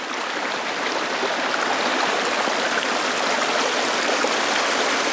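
Water flows over a waterfall in a continuous rushing hiss, even and close, with nothing else audible.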